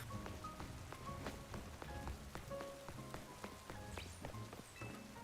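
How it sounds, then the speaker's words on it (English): Steady rain falls in the Pokémon Legends Z-A video game, a soft, continuous patter of drops on surfaces, quiet and even throughout with no talking. "Even Charizard doesn't care that it's raining."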